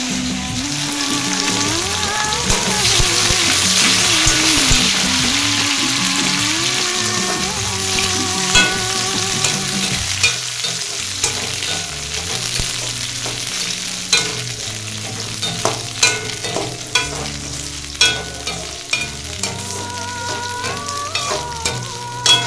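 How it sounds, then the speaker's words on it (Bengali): Fried rice sizzles and is stirred in a pan, a steady loud frying hiss with repeated scraping and clinking of the utensil against the pan that grows more distinct and rhythmic as the hiss eases. "ফ্রাইড রাইস এই দেখো জল ছড়িয়ে রেখেছি,"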